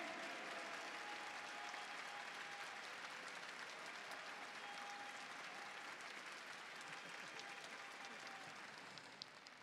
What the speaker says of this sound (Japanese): 皆様今一度大きな拍手をお送りください。